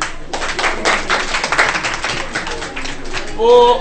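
People at a community association meeting clap for a newly named member, a short burst of close, uneven hand claps that thins out before a voice begins speaking at the end.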